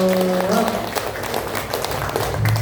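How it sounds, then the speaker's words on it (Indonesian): An audience at a therapy testimonial session claps in a steady patter of applause, with some voices mixed in under the clapping. "Tepuk tangan dulu dong."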